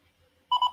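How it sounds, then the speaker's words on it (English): A broncolor Scoro power pack gives a single short, clear electronic beep after its user button is held down, sounding suddenly out of near silence. "Press user button for 5 seconds. Then we get a beep."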